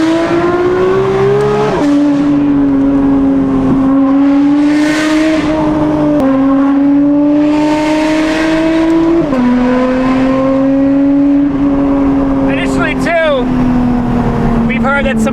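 A Porsche GT3 RS fitted with a Valvetronic Designs RSR race exhaust revs hard and close, its loud howl climbing through several sharp pitch steps before falling back, with a voice briefly over the top near the end.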